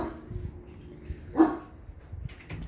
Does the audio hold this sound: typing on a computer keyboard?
no